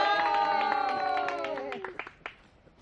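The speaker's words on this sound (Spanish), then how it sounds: "¡Aplausos!" At a pilgrim welcoming ceremony, an audience gives a short burst of scattered clapping for pilgrim Gloria Vergara, following a loud, drawn-out shouted voice, with the claps fading quickly.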